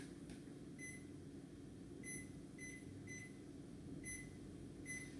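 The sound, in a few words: oven timer being set, beeping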